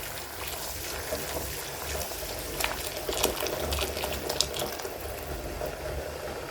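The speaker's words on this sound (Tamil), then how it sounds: "இப்போ அந்த சுடு தண்ணியை நம்ம இதில் ஊற்றிக்கலாம்." Hot water is poured into soaking rice in a pot for Coimbatore Angannan-style chicken biryani, giving a steady bubbling, splashing pour with a few sharper sloshes, close and continuous with no talking.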